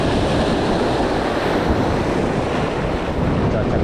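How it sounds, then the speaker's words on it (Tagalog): Strong ocean waves break beyond the shallows at a rough fishing spot, a steady, loud, unbroken roar of surf with wind buffeting the microphone throughout and no voices. "Ang lakas ng alon doon sa kabila."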